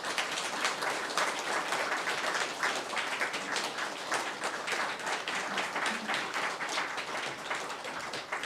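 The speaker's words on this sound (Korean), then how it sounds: "교회 여러분, 큰 박수로 목사님을 앞으로 모시겠습니다." Congregation in a Korean holiness church applauding steadily as a pastor is welcomed to the front, a dense, sustained wash of many hands clapping throughout, fairly even in loudness.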